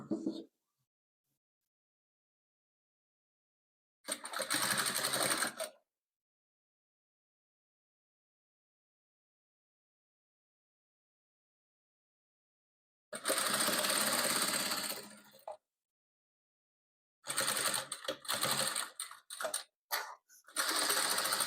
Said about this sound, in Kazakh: Сосын тігіп аламыз барлығын.